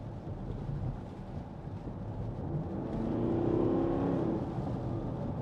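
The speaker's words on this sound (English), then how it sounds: "And the acceleration's something to behold as well." A 2014 Porsche Cayenne 4.2 TD S diesel with Tiptronic S gearbox accelerates, heard from inside the car. The engine drone and road rumble swell partway through, with wind noise around it.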